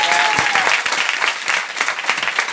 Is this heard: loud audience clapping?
yes